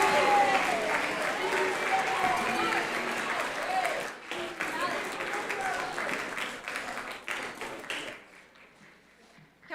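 An audience applauds at a Grades 9 and 10 Outstanding Scholar Assembly and Black History Month celebration, with loud sustained clapping and some cheering that thins and fades near the end, with a voice briefly audible in the mix.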